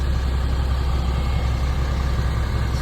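Asia Star Bus airport shuttle bus HM-198 sits idling, its engine giving a steady, close, low rumbling drone with no breaks or rev changes.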